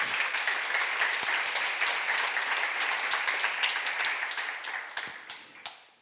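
A church audience applauds warmly and steadily during a sermon, then the clapping thins out and fades over the last seconds.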